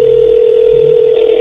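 A telephone dial tone plays as a call is placed, steady and loud throughout, with faint dialing tones underneath, cutting off at the end.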